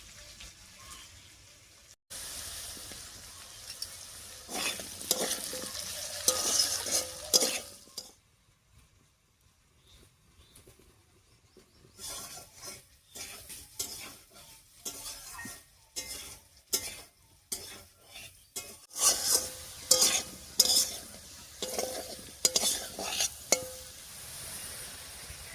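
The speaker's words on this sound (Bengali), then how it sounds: "আলুটা এই তেলের মধ্যেই আস্তে আস্তে ভাজা হবে, কোনো রকম ঢাকাও দেবো না আর জলও দেবো না।" Potatoes frying slowly in oil, uncovered and without water, stirred with a utensil against the pan: bursts of loud scraping and sizzling separated by a quiet pause, close and with no talk.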